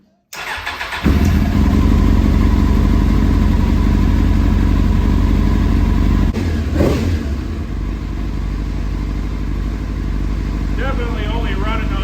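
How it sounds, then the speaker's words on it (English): A Suzuki GSXR750 motorcycle engine fires up and settles into a loud, rough, uneven idle, running on only a few cylinders, with a brief blip of revs midway and a voice talking near the end. "Definitely only running on 2 or 3 cylinders."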